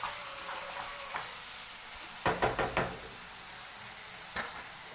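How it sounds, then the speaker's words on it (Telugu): Crabs fry in a pan with a steady close sizzle, broken by a quick burst of four sharp spatula clacks and one more knock near the end. "ఇలా 5 నిమిషాలు ఇలా పీతలు ఫ్రై చేసుకోవాలి"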